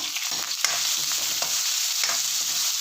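Green chili and curry leaves sizzle in hot oil for a mango fenugreek curry, a steady bright frying crackle with a few stirring scrapes throughout, no talk.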